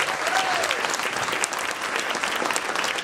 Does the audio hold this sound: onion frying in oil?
no